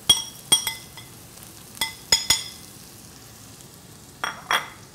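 Celery tipped into a pan for vegetable cottage pie, a few sharp clinks and brief sizzling bursts scattered across a quiet kitchen background, no talk.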